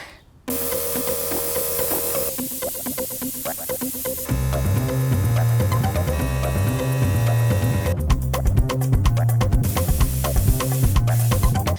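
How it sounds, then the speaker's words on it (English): European Body Art alcohol-based airbrush makeup sprayed onto skin for cosplay body paint, a steady close hiss running throughout with pulsing, buzzing tones layered beneath it. "Today, I'm gonna be using European Body Art alcohol-based airbrush makeup, which is my favorite thing for long wear at cons."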